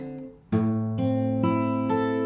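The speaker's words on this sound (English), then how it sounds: "it's going to sound like this for the finger picking" Acoustic guitar notes ring out one after another in an even rhythm, each plucked tone sustaining under the next, close and clear.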